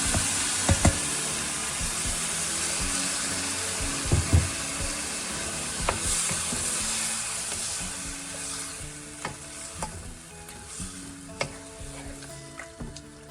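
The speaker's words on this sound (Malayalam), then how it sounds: "ഇനിയും വെന്തിരിക്കുന്ന ബീഫ് കുക്കറിൽ നിന്ന് നമുക്ക് ചേർത്ത് കൊടുക്കാം." Cooked beef from a pressure cooker is added to sizzling masala for a spicy Goan-style vindaloo, giving a steady close frying hiss with repeated clattering spoon stirs and scrapes and no talking.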